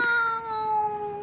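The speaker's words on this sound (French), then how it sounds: "Oh, le pauvre petit minou." A small kitten gives one loud, drawn-out meow that wavers slightly in pitch, close and alone with no other sounds.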